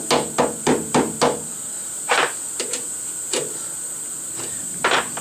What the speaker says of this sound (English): Give it a little hammer in there.